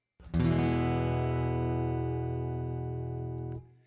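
A single guitar chord is strummed once and rings out clearly, sustaining for about three seconds before being cut off.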